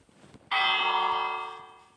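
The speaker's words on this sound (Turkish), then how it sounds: "çanı çalma vakti" In a survival video game, a single loud bell strike rings out after a half-second of quiet, then holds a long, bright, slowly fading tone.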